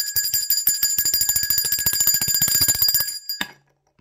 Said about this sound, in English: while I ring this bell of enlightenment